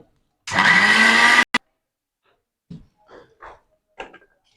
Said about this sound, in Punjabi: ਦੇਖੋ ਆਪਣੀ ਦਾਲ ਗ੍ਰੈਂਡ ਹੋ ਗਈ ਆ